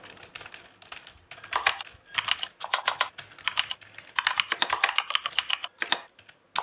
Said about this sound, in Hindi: तो यहाँ पर मैं टाइप कर देता हूँ फॉर्मल शर्ट